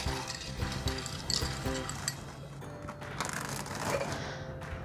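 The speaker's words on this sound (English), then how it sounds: "So you stir it for about 20 to 30 stirs. I like to say until the ice is covered." Ice rattles and clinks against a mixing glass as an Old Fashioned cocktail is stirred, a steady stream of close, busy clicking and chinking that carries on throughout without talk.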